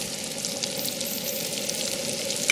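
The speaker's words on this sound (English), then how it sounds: "It's supposed to stir fry for 3 minutes or so." Rice stir-frying in a pan for paella gives a steady, even sizzle that runs unbroken at close range, with no talking.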